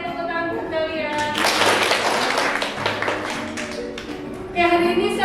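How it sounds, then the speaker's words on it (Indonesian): Schoolchildren clap together in an Indonesian classroom, a dense burst of hand claps lasting several seconds between a teacher's spoken lines, with a voice and talk around it. "Oke, tepuk tangan buat kalian."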